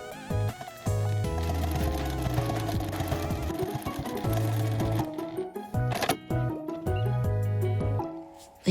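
A sewing machine stitches a patchwork pouch seam 0.3 cm from the edge in rapid, close, rhythmic bursts with brief pauses between runs, set against soft background music.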